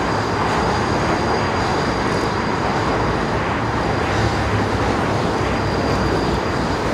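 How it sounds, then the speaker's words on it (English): A steady, loud rumble of a New York City subway N train rolling past, continuous broadband roar with rattling low end and a faint high whine throughout. "That is the N train."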